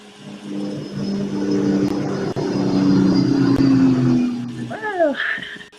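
Propeller airplane passing overhead outdoors, a steady droning engine hum rising and holding loud, then fading, with a brief high chirp near the end; no speech.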